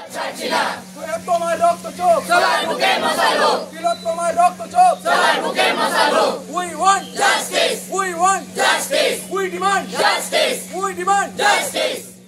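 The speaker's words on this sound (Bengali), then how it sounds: "দৃষ্টান্তমূলক শাস্তির দাবিতেও স্লোগান দিতে থাকেন তারা" Protesting medical students at a rally chant slogans in unison demanding exemplary punishment, loud rhythmic bursts of many voices repeating call after call with short gaps between.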